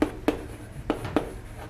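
Chalk or marker taps and strokes on a board in a classroom, four sharp near knocks spaced unevenly with faint scraping between them.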